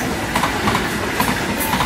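A train rumbles past at Roermond station in the Netherlands, a steady close roar of rolling wagons with faint rhythmic wheel clatter throughout, no voices.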